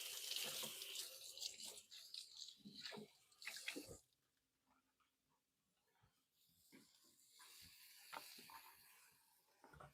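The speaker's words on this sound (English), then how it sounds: "I'm going to give them a quick rinse." Tap water runs and splashes over green onions being rinsed at a kitchen sink, a bright gushing stream for a few seconds, then fainter trickling and handling.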